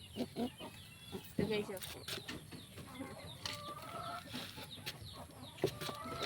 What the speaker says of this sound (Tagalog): Guys, rinig nyo guys yung barako.